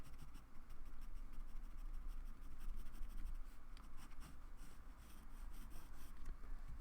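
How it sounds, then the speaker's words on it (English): A pen crosshatches on paper for a drawing, a faint steady scratching of quick repeated strokes heard alone and close. "I'm just trying to crosshatch."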